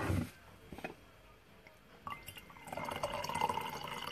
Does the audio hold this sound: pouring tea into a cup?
yes